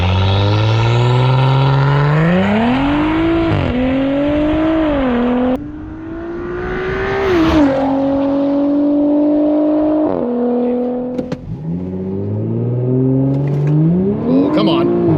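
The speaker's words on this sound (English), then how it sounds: "Let's see if these skinny little winter tires can hold on for dear life and give me a decent launch." A car fitted with an IE Stage 3 TTE810 turbo launches hard on winter tires, its engine revving up loudly and climbing through several gear changes, each shift marked by a drop and renewed rise in pitch.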